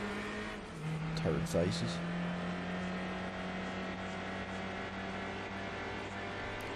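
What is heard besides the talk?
race cars flying past in Gran Turismo 4 video game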